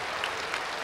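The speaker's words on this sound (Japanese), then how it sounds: "歓声がすごいです。" At Jingu Stadium, a baseball crowd roars with dense, continuous cheering and clapping after a game-winning home run in a Swallows–Tigers game, a loud, even wall of crowd noise with no clear talk.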